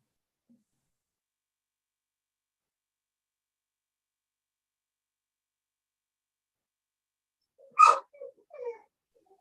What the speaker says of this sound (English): That dog hurt my ears.